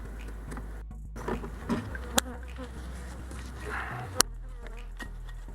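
Honey bees buzz steadily inside an opened hive, a close, dense drone with a few sharp knocks and clicks of frames being handled, no talking.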